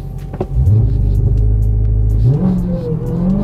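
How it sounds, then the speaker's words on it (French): A 2021 Dodge Charger SRT Hellcat Redeye rated at 797 hp making a launch-control start, a deep loud rumbling roar held steady, then climbing sharply in pitch as it accelerates hard. "on va faire un launch control avec le Dodge Charger SRT Hellcat Red Eye."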